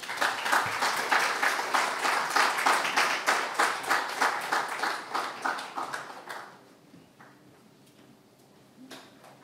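Audience applause welcoming Dr. Hindol Sengupta at an evening talk, a steady crowd clapping that holds for about six seconds before fading to a quiet room.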